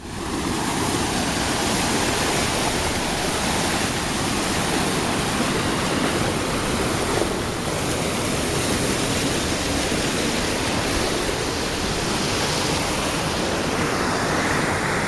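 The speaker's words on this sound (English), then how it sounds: "So, see, I'm going to get across this river. It'll probably get in the way of hearing me." Creek water rushing loudly and steadily as it is crossed on foot, a dense continuous wash of flowing water close to the microphone with no voices.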